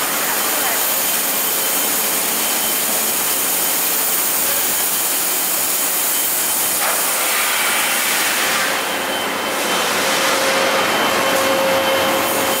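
Bottle preform blow molding machines in a sriracha sauce factory produce a loud, continuous industrial roar and hiss that fills the space, with people talking over it.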